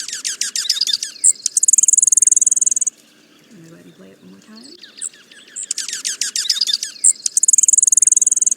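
A junco gives repeated raspy call notes over a backdrop of trilling bird song and insect chirps. Someone speaks briefly midway, and the calls return near the end.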